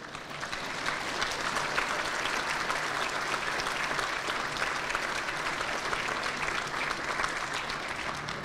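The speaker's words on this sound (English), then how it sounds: "we could give them a warm welcome of applause" A crowd applauds steadily for several seconds, a dense, even wash of clapping that stays loud throughout.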